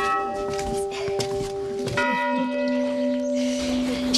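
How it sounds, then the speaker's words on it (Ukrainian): Old church bells ring out, several struck tones overlapping and lingering in long resonant hums, moderately distant and clear with no talking. "оце старовинні дзвони"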